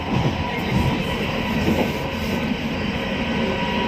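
A metro train rumbles along steadily, a continuous loud roar of wheels and motor with faint rattling, no voices.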